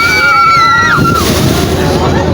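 Rough river waves slosh and slap against a rocking trawler boat, with steady wind and water noise throughout and people talking loudly over it.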